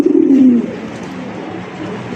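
A large black pigeon gives one loud, close, low coo at the start, and then the sound falls away to quiet room noise.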